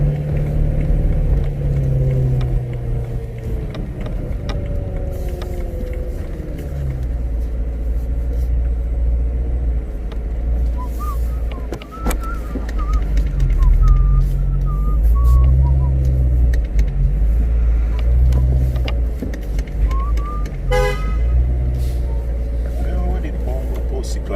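A supercharged BMW E92 M3 running on an E85 and 93-octane fuel blend gives a steady low engine drone with a faint whine, holding close and even throughout.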